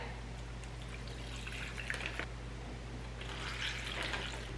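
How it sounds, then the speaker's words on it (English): Soy sauce pours steadily into a bag over a constant low hum, with a faint trickling swell near the end. "I need a 1/2 cup of soy sauce in each bag."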